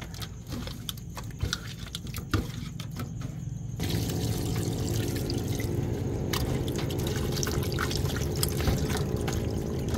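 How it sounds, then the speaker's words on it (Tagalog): Water pours and splashes while something is washed, starting as a light trickle with scattered drips and then growing into a steady, louder flowing stream that continues to the end. "Bago natin ito hugasan ng tubig."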